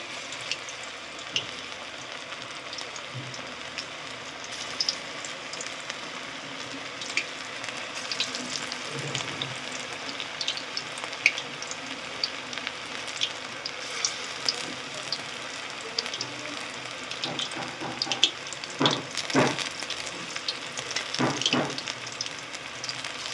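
Chicken pakora fritters frying in oil over a medium gas flame, a steady close crackling sizzle with scattered pops and a few brief louder bursts of spattering, no voices.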